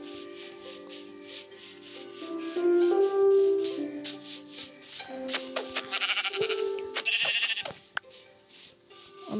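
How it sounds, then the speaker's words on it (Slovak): Sheep bleat repeatedly in Minecraft, several blocky game-sheep calling one after another at moderate loudness, with soft rattling and clicking game sounds around them and no talking. "Tu je koľko tých oviec tu"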